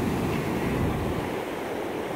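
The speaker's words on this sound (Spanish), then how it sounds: "Aun cuando el mar está un poquito agitado, uy, se está acercando." Rough sea waves wash onto a beach after a storm, a loud continuous broadband roar of surf with some wind buffeting the microphone and no talk.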